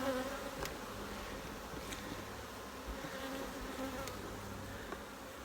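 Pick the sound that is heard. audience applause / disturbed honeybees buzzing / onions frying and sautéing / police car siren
disturbed honeybees buzzing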